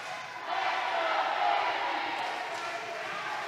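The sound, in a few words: wrestling crowd cheering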